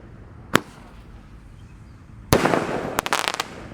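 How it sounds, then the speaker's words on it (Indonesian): Multi-shot firework cake on a Ramadan night: one sharp bang, a pause, then a rapid cluster of loud cracking bursts in quick succession, close and with no speech. "8 shot berhasil menyala."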